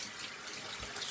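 Cold tap water running steadily into a sink for a rinse during a wet shave, a continuous soft hiss and splash heard alone at low level.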